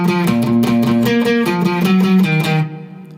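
The intro riff of a song, usually played on bass, here played on guitar as a steady, rhythmic run of repeated picked notes at a close and loud level, with no talking, then a sudden stop.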